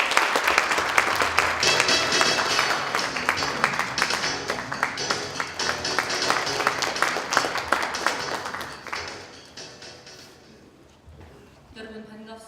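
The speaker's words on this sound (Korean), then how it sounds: "큰 박수 부탁드립니다." A conference audience claps warmly for an arriving deputy mayor, dense applause that stays strong for about nine seconds before thinning out and fading into scattered claps.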